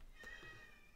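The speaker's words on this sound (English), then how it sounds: "that is my cat" A pet cat gives one faint, short meow indoors, barely above the background hiss.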